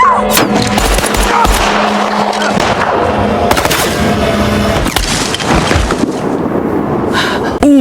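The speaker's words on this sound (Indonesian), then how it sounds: "betapa syoknya John saat ia dan keluarganya malah diserang begal bersenjata" Armed robbers open fire in the disaster film Greenland 2, with loud bursts of gunshots and rapid machine-gun-like volleys over a dense, rumbling action soundtrack that stays intense throughout.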